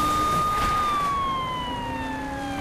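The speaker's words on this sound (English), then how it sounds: "Turn on siren, let's go!" A police siren in the video game Saints Row: The Third wails loudly and continuously, its pitch sliding slowly downward, with a steady engine-like rumble underneath and no talking.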